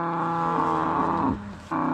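Hereford cow mooing close by on a farm, a single long, loud, harmonic moo that bends downward in pitch and then breaks off, followed by a brief resumption.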